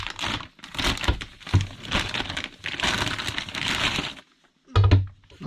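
A Ryobi T-shank HCS wood jigsaw blade being pulled from its packaging bag: loud, close crinkling and rustling in several bursts, with a near-silent pause before a final rustle.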